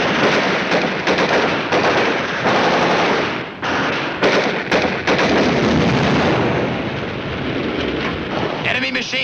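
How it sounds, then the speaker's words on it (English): Enemy machine-gun fire in a WWII battle scene rattles in long, dense bursts with heavy booms and brief gaps, loud and close throughout. "Enemy machine gun."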